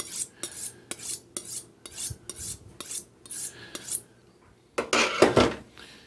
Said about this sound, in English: I'm going to get up my steel. I'm going to make sure that this knife is good and sharp.